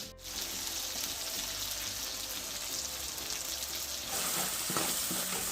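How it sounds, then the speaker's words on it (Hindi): Home-ground spices hitting a tomato tadka, frying with a steady, close, continuous sizzle throughout, with faint clinks of stirring near the end. "अब डालते हैं इसमें ये मसाले, घर के पिसे हुए ये वाले।"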